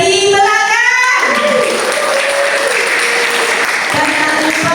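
Audience at a Halal Bihalal gathering and Olylife plan presentation in Pringsewu bursts into loud, sustained applause for the mentors, with a few voices calling out over the clapping as it starts.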